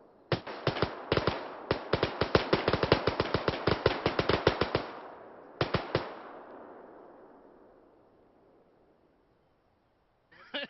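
Rapid automatic gunfire in a military shooter game, long bursts of sharp shots in a fast rhythm followed by a fading echo and a second short burst, loud and close, with another burst starting at the very end.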